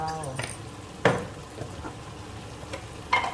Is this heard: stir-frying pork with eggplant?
yes